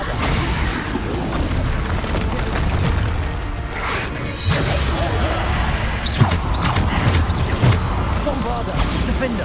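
Bombarda spell blasts from combat in Hogwarts Legacy, loud booms and crashing impacts repeating through a dense, busy mix of game effects, with voices talking over them.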